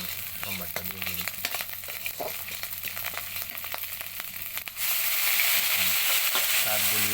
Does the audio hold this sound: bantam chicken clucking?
no